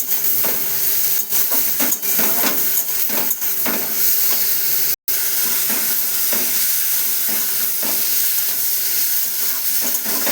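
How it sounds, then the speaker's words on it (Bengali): Pumpkin-leaf (pui shak) curry with shrimp and pointed gourd being stirred after a splash of water is added, a steady close sizzle and hiss with scraping stirs, continuous apart from one brief cut-out midway. "হালকা একটু জল দিলাম, জল দিয়ে একটু নাড়াচাড়া করছি"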